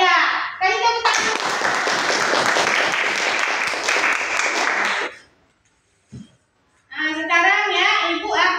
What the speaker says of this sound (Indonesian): Oh iya, tadi tepuk tangan.